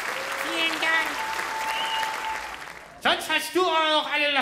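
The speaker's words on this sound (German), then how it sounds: "Das ist Ihr Applaus." Audience applause at a German ventriloquist comedy show, a sustained wash of clapping under a performer's voice, with more speech breaking in near the end.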